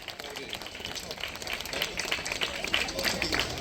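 Steady applause from the audience at an outdoor Ambedkar Jayanti celebration in Kalwada, Valsad, a continuous wash of many hands clapping throughout, moderately loud with a faint voice underneath.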